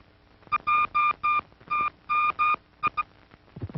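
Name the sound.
telephone line cross-ringing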